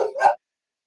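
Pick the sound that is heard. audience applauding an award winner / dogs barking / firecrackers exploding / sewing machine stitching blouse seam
dogs barking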